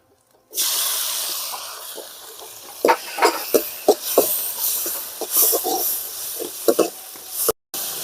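Two tomatoes drop onto onions already fried red in a pan for a bottle gourd dish. A steady, close oil sizzle runs throughout, broken by sharp stirring scrapes and clicks near the end.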